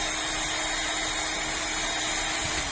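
A heat gun blows steadily on shrink tubing during repair of a Yamaha NMAX 155 motorcycle, giving a constant loud whooshing hum with no breaks and no talk.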